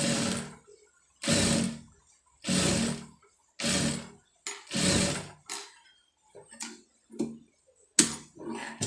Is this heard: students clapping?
no